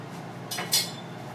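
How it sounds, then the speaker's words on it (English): Brief clatter of cutlery in a home kitchen as a knife is pulled out for cutting pasta dough, two quick metallic clinks close by in quiet surroundings. "Hold on one second while I get a knife."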